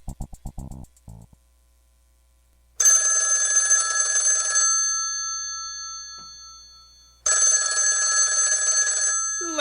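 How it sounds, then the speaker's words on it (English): An old-style telephone bell rings in two long metallic bursts, each lasting about two seconds and separated by a pause, loud and clear against near silence after a brief clatter at the start. "the ringing of that phone bell brings you mystery, adventure"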